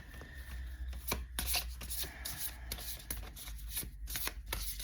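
A new deck of playing cards being shuffled close up, with repeated crisp riffling bursts and soft rubbing of cards between them, steady and fairly quiet with no talking.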